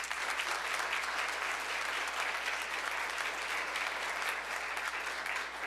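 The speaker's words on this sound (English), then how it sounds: "Let's give him a round of applause there" An audience at a disability employment awareness celebration applauds a doctor, a dense sustained wash of many hands clapping evenly throughout, fairly distant and with no speech.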